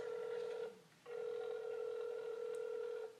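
A telephone rings twice through a speakerphone call, each ring a steady electronic tone with a short gap between them, clear and alone with no talking over it.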